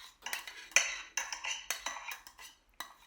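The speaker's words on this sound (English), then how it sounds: "transfer your boiling hot pasta in the eggs" Hot, freshly boiled pasta is moved into a bowl of beaten eggs for carbonara, with close clinks of utensils against the dish and soft stirring scrapes in short, irregular bursts.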